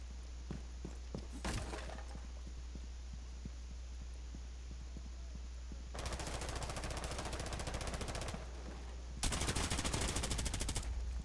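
Gunfire in Rainbow Six Siege as a window is shot out, with bursts of rapid automatic fire over a low steady hum, the second burst louder and nearer.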